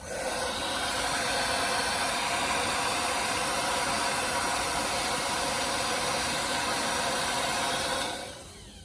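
A hair dryer on its cool setting blows steadily at close range for several seconds while drying glued wig lace, a continuous loud whooshing hiss that cuts off near the end.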